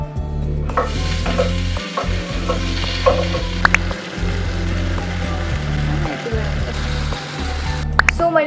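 Tomatoes tossed into a pan of browned onion, garlic and chili for shakshuka, frying with a loud continuous sizzle and repeated stirring scrapes, brief pauses between strokes, near the mic.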